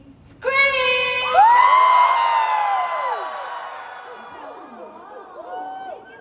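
A concert crowd at a world tour stop in Oakland screams and cheers loudly, rising in a high shrieking swell that slowly fades, with scattered whoops continuing near the end.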